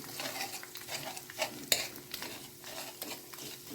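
Garlic fries in a pan for fried rice, a steady sizzle broken by scraping stirs of a utensil against the pan, close and fairly quiet with no talk.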